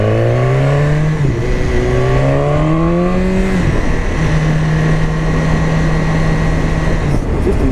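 BMW S1000R motorcycle engine revving up through rising harmonic sweeps, dropping back after about three and a half seconds, then holding a steady loud idle-to-midrange drone to the end, close and alone.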